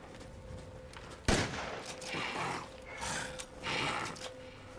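A shotgun fires once in Resident Evil Village, a sharp close blast followed by rumbling, roaring game ambience and scattered noises.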